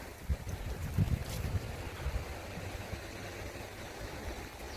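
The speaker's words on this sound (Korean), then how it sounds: "여기 아래쪽 데크는 사실 좀 시끄럽습니다 물소리도 있지만 저 앞에 도로 보이죠 차량 소음 때문에 좀 많이 시끄러운 편이에요" Water flows near a deck at a campsite in Sinbulsan County Park, a steady broadband rush with low road-traffic rumble beneath, a few soft thumps early on, and no talk.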